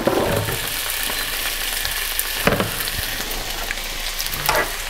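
Hot spaghetti sizzles and fries in a pan as eggs go in. A crackling sizzle runs throughout, with a few brief clatters and stirring scrapes, and no talk.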